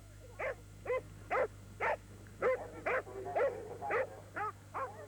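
A dog at a 1984 Battle of Flowers dog training display barks about ten times in a steady rhythm, each bark short and fairly close, against a low constant hum.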